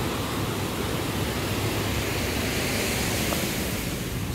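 Ocean surf on the beach at Pantai Monumen Balikpapan in Indonesia, a constant broadband wash of waves with some wind, loud and steady with no distinct breaks.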